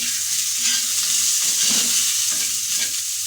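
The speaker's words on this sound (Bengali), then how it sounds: "এবার বেগুনটাও ভালো করে ভেজে নিব" Eggplant frying in a pan alongside potatoes, a loud, close, continuous crackling sizzle with soft stirring scrapes rising and falling beneath it.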